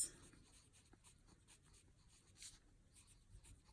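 Handwriting with a pen or pencil on paper during a math lesson, quiet scratchy strokes coming in short irregular bursts, close and soft with no talking.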